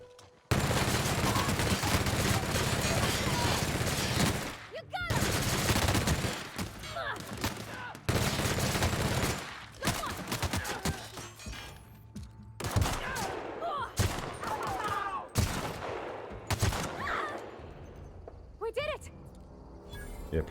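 Gunfire from a weapon in The Outer Worlds comes in loud, close bursts of rapid shots broken by short pauses. Some single reports and scattered impacts mix in, and a voice talks at times between the volleys.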